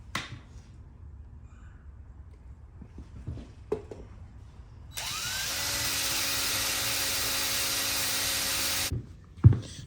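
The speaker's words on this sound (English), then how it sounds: "So I'm gonna finish drilling these pilots," A power drill bores pilot holes through a tractor wheel ring, a steady high whine running for about four seconds after quiet shop ambience, then cutting off with a clunk.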